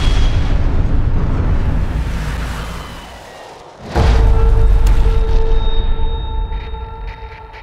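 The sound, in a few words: artillery strike explosions in a war film trailer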